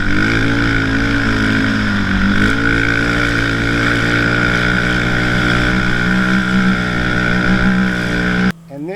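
A 2015 Yamaha Raptor 700R ATV engine holds a loud, steady high-rev drone while riding, pitch dipping briefly then climbing again before cutting off near the end.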